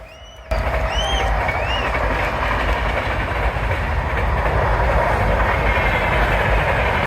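A train passes near rural fields, a loud continuous rumble with rolling wheel noise and a few high squeals, steady for several seconds before cutting off abruptly.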